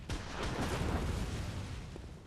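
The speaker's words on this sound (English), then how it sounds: "now these two are just going to keep shooting" Enemies in Bloodborne fire at the player, giving a dense, rumbling volley of gunfire and booms that lasts about two seconds at moderate volume.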